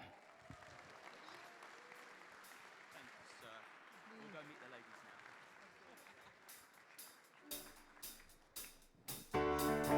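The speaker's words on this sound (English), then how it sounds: "please give a massive round of applause to our legend, Joel Robert" An audience at a live-streamed event applauds a guest of honour, a diffuse spread of clapping under crowd murmur, then louder sharp bursts and a sudden surge near the end.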